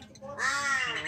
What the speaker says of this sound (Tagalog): Mga lovebirds ba to?